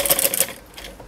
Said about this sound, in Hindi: तो ऐसे ही मैं इसके चारों तरफ से सिलाई लगा लेती हूँ।